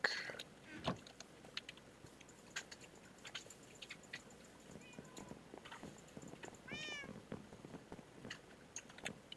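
A cat meows a few times over a quiet background of faint clicks and rustles, with a brief rising call partway through.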